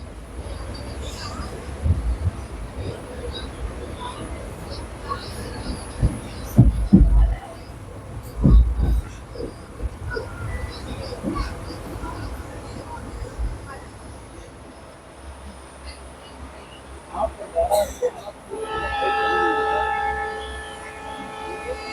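A passenger special running from Rameswaram to Secunderabad pulls out of Thiruthuraipoondi junction, heard from on board as a low rolling rumble with heavy rhythmic wheel thumps and a sustained hum.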